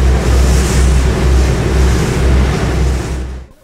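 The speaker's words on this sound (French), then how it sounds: "Il y a beaucoup de vent, le Danube est très agité" Loud, constant wind roars against the microphone aboard a boat on the Danube, over churning, choppy river water, a heavy rushing noise that fades out at the end.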